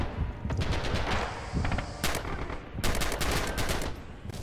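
Machine gun fire in the Red Orchestra battle game, loud rapid bursts of automatic shots cracking close, with brief pauses between volleys and distant gunfire rumbling underneath.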